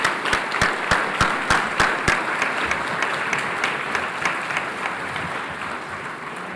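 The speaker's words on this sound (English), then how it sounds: "Please, another round of applause for our top 10." Audience applauding the top 10 students at a high school academic excellence awards ceremony, starting with a few loud, sharp, evenly spaced claps that dissolve into steady, dense applause which slowly fades.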